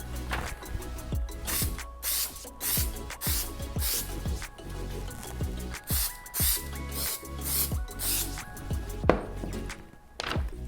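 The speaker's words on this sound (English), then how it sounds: "Get out our spray adhesive." Close aerosol spray adhesive hisses out in several short bursts, mixed with clunks, taps and handling noises, no talking.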